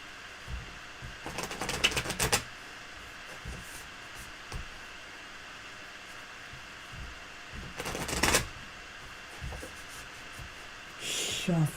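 Tarot cards are shuffled in three brief bursts of rapid riffling clicks, close and crisp, separated by quiet pauses with faint handling noise.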